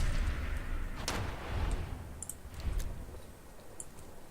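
Revolver shots from the Fallout 4 game, a Lucky Two Shot western revolver mod, fired as a few sharp separate cracks with quiet gaps between them, no talking.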